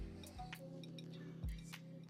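Ice cubes dropped into a serving glass for a large batch of white sangria, two bright clinks with a short clatter, close and fairly quiet.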